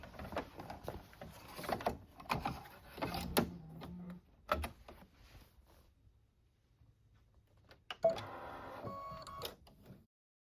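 An embroidery machine stitching a placement line in a hoop for a rope bowl project, with a mechanical whirring and clicking that starts and stops in bursts, moderately close and with no talking.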